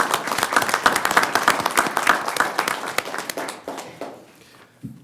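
Audience applause at an El Paso County Commissioners Court meeting, dense steady clapping from a roomful of people that thins into a few scattered claps and fades out over about four seconds.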